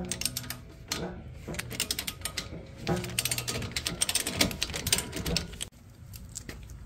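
Hand ratchet clicking rapidly as it turns a 15/16 bolt on a Ford Bronco axle during a lift install, the close, dense clatter running in bursts for several seconds with a short pause near the end.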